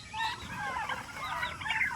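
Chickens cluck on a farm that also keeps ducks and turkeys, a close, busy overlapping chatter of clucks with no pause.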